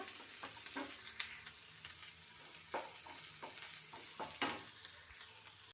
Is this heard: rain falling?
no